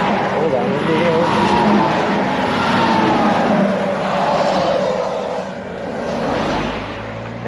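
Highway traffic including semi trucks rushing past at the roadside, a loud rolling roar that swells and fades as vehicles go by, with people talking over it.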